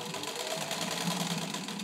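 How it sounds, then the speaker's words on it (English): A restored Singer 15-91 sewing machine stitches at high speed, giving a steady, fast mechanical whir and rattle that runs unbroken and fairly close. "I wanted you to see that this machine can sew pretty darn fast enough for most of you"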